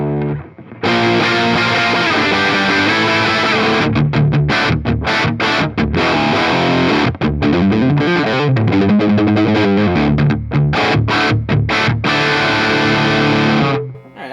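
A distorted electric guitar plays through a Bogner Ecstasy amp with the bass turned down and the highs and mids raised, a loud, sustained riff with choppy palm-muted stops, played alone with no talking.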